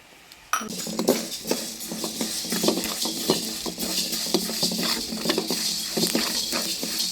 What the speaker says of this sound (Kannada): 50 ಗ್ರಾಮ್ ಸಾಸಿವೆ ಹಾಕಿ ಹುರ್ಕೋಬೇಕು, ಚಟಪಟ ಅಂತ ಸಿಡಿಬೇಕು